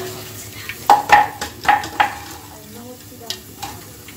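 Jackfruit chilli pieces frying in oil, a series of close, clattering stirs and knocks against the pan over a faint sizzle, louder in the middle and then tapering off, with no talk.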